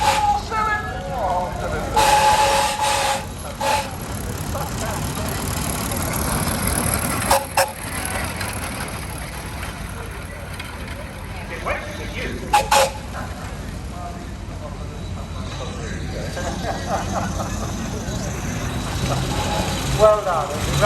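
A 1904 Panhard Levassor 50 horsepower four-cylinder veteran car runs on the road in a steady mechanical rumble with occasional clanks and knocks, while people talk over it.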